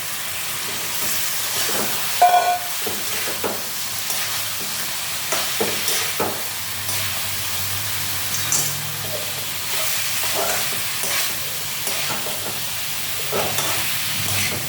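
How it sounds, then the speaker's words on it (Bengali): Soybean chunks fry in a pan with a little added water, giving a continuous hiss and sizzle. Irregular scraping knocks from stirring run through it at close range. "বড়িগুলিকেও ভালো করে ফ্রাই করতে হবে।"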